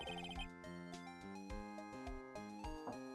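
A phone rings in the Phoenix Wright: Ace Attorney video game, a faint, melodic electronic ringtone of repeating chiming notes heard alone over a few seconds.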